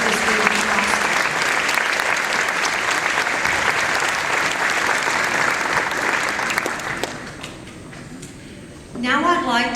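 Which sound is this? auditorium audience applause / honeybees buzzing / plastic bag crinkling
auditorium audience applause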